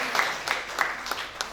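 An audience claps for a sponsor at an event hall, a steady wash of crowd applause with a few sharper clap bursts recurring through the short stretch, moderately distant and with no talk over it.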